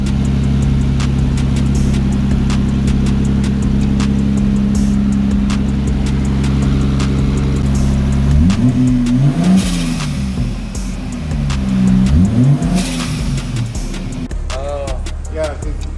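An Infiniti Q45, running again after sitting seven years, driven with its engine droning steadily, then climbing and falling through revs as it accelerates and shifts, with people talking over it.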